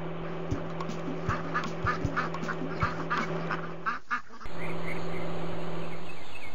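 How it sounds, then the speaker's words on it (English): Cartoon baby ducks quack in a quick run of short, repeated calls over a steady musical background, ending in a sudden shift to a louder, sustained tone. "The baby ducks are out of the road!"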